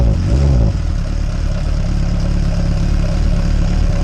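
A cold Suzuki GSF 600 Bandit motorcycle engine idling to warm its oil, a loud, close, steady throbbing rumble with a slight blip at the start, no talk.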